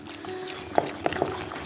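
Water pours briefly into wholegrain spätzle dough in a bowl, giving a soft close trickle with a few small splashes and drips and no talking.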